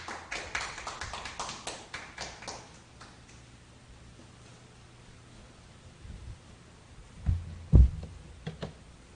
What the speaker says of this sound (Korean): 이경주 교우를 박수로 모시겠습니다.